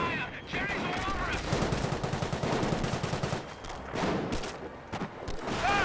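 Dense gunfire from Company of Heroes 1, bursts of machine-gun fire and shots crackling throughout a battle between army forces and special forces, with a voice talking over the sustained rattle.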